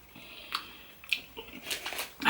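Close, crisp bites and crunching of a fresh sushi salad with crunchy greens, several separate chews spaced over a couple of seconds, ending in a louder crunch.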